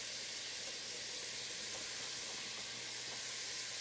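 Onions and flour sizzle in a frying pan for a brown gravy, a steady, even hiss that holds close and constant throughout with no voices.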